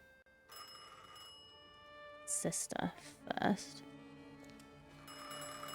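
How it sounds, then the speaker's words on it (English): A phone rings in The Thaumaturge, a bright, tonal ringing that builds into several loud bursts over sustained musical tones, with a voice speaking briefly at the start. "Oh, phone's ringing."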